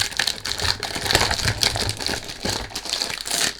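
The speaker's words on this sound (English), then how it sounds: "Sorry about the noise when you do unboxing, you can't do anything about it." Crinkling and rustling of packaging as an El Ganso Part-Time Hero eau de toilette is unboxed, close and continuous with irregular crackles.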